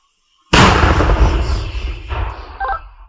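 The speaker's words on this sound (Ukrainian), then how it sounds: "Постріл!" A single loud, sharp gunshot cracks out of silence, followed by a long rumbling echo that slowly fades.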